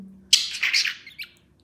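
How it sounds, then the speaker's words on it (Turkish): A pet bird lets out a short, close, bright run of chirps and tweets, with a brief squawk near the end, heard alone after a soft hum. "Ay, güzel kuşum benim. Güzel kuşum."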